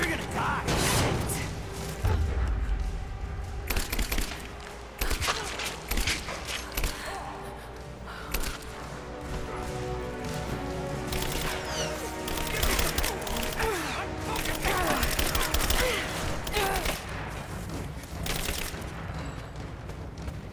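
Rifle gunfire in the Rise of the Tomb Raider video game during a prison escape, with repeated sharp shots and thumps scattered throughout amid game effects and mechanical noise, fairly loud and continuous.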